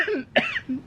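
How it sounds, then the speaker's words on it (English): One person coughs, with a short rough throaty burst in the middle of the clip and a fainter voiced sound on either side. "Yeah, I have a cough."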